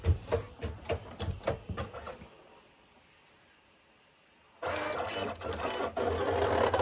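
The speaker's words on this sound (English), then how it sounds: "So the Cameo cutter is doing its job." A Cameo vinyl cutter cuts an image into vinyl, a mechanical whirring and stuttering motor run in bursts, pausing to near quiet mid-way before resuming steadily, fairly close and moderate in level.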